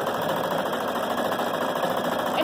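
A home embroidery machine stitching an applique design, a fast, steady mechanical whir and rapid needle clatter, close and continuous with no pauses.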